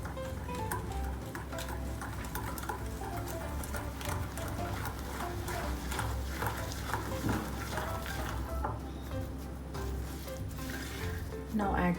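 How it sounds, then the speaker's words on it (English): Cookie dough for eggless oat and whole wheat chocolate chip cookies with brown sugar, stirred steadily in a bowl, giving a continuous close scraping and mushy churning. "Give it a stir."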